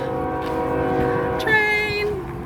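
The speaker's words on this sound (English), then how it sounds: "Train!" A train passes near a tunnel on the Pacific Crest Trail, its horn sounding as a sustained tonal blast over a rumbling rolling background, the pitch bending downward midway as it goes by, fairly close and loud.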